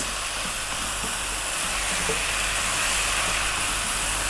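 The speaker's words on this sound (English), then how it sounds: "So it's time for our okra, in that goes." Okra pieces frying in a pan for a creamy potato okra curry give a loud, steady sizzle and hiss that runs unbroken throughout, close up and without speech.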